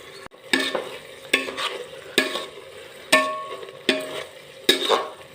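Carrot laddu mixture stirred and fried in a pan. About six sharp spoon scrapes land at a steady rhythm, each followed by a short burst of sizzle, close and clear with no talk.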